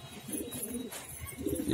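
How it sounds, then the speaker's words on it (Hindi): Pigeons in a loft of newly acquired birds about to be released, giving soft low cooing sounds that rise and fall, fairly close, with no talk. "ये नफ्ता कबूतर"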